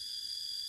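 A cicada calling from high up in a tree, a steady, high-pitched continuous buzz that holds evenly through a brief moment with no voices.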